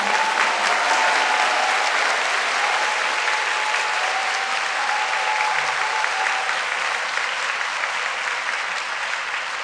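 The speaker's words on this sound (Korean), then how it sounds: "여러분 큰 박수 부탁드리겠습니다" An audience applauds steadily at the 140th anniversary ceremony of Ewha Womans University in Korea. The clapping is dense, sustained and fairly loud, with a faint tone briefly audible underneath.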